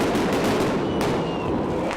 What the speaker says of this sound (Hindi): पुलिस ने प्रदर्शनकारियों पर आंसू गैस के गोले छोड़े और हवाई फायरिंग भी की